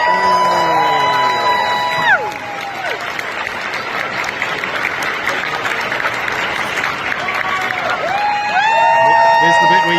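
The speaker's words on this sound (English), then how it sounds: "we're going to give you another massive round of applause" Convention crowd at a Transformers fan event breaking into loud applause mixed with whoops and cheers, steady for several seconds, while voices carry over the start and end.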